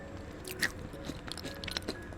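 Someone chews a baked whole-wheat protein snack ball near the microphone, with a few soft bites and moist squishy chewing sounds over a quiet room hum.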